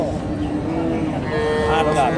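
A cow lowing at a busy cattle market in Hasokhali, Bogura, Bangladesh, one long loud moo close by with crowd noise and voices in the background.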